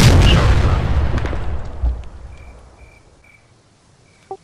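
A grenade detonates in a World War II shooter, a loud close boom at the start that decays into a long rumbling tail, with a few faint distant pops and insect chirps after.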